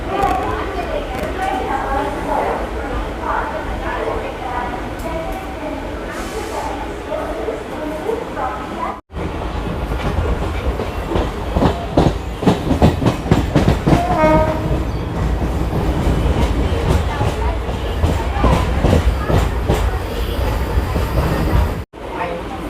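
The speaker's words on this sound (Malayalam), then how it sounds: "സബർമൻ ട്രെയിൻ ഇവിടെ നിന്ന് പോയി." A Chennai suburban train runs heard from inside a carriage, with a steady loud rumble and rhythmic clickety-clack of wheels on track, a horn, and voices talking throughout.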